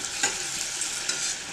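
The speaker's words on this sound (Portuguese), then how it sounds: "Então, vou fritar mais um, ó." Dough for filled pastry tubes frying in an old frying pan, giving a steady, close hiss of sizzling oil with a few small pops and no talking.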